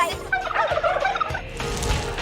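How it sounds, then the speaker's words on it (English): Farm turkeys raised for a Christmas dinner gobble together in a loud, close, continuous chorus of warbling calls. "It's time to get the kids ready to say goodbye to the turkeys."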